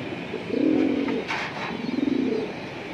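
A breeding pair of silver pigeons coos nearby in two throaty, rolling bursts separated by a short pause, with a faint flutter between them and no voices.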